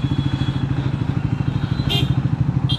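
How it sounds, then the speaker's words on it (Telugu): A Triumph Speed 400 motorcycle putters at a close, steady rhythmic idle amid road traffic, with brief horn-like bursts from nearby vehicles in the background. "ఇంత ట్రాఫిక్ ఏంట్రా"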